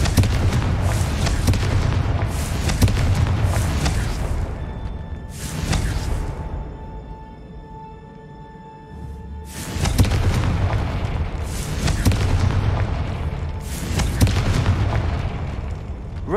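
Confringo blasting curse going off in Hogwarts Legacy: loud, heavy booming explosions in repeated bursts with rumbling low end, a brief lull of ringing tones midway before more blasts.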